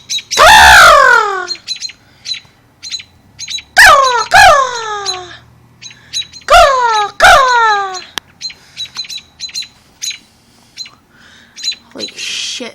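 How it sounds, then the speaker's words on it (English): Several birds squawk loudly and close by in repeated harsh bursts with sharp chirps in between, giving a busy, rhythmic pattern of calls over quiet gaps. "It's a fucking bird."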